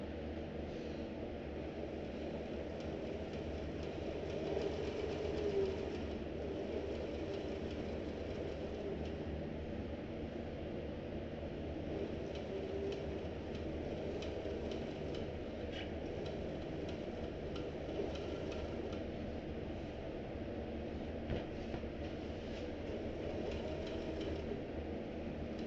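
A sewing machine stitches through a backpack seam where the gussets are joined, running as a steady, continuous mechanical hum with a faint rhythmic ticking throughout, fairly quiet and with no talking.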